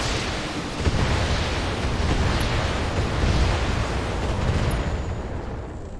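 Heavy artillery barrage in a war video game, firing on an enemy target: a sustained, loud, rumbling roar of blasts and booms with no clear pauses, dense and continuous throughout.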